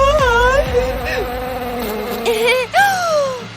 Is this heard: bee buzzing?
yes